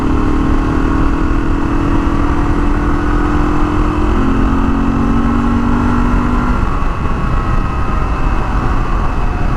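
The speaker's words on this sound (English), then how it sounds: "when you come ripping by on a dirt bike" A Honda XL500 dirt bike engine roars loudly and steadily throughout, its pitch sliding gradually lower before levelling off, close and with no voices.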